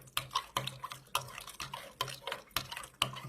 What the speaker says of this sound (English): Mix that in really good.